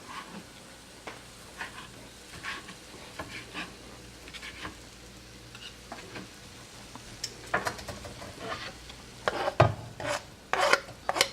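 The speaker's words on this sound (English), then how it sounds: "I'm going to shred the cheese with my box grater, or grate the cheese." Cheese being grated on a box grater gives repeated raspy scraping strokes, close and uneven in rhythm, growing louder and quicker toward the end, with no voices.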